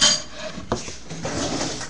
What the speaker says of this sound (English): Put my egg noodles into the pan.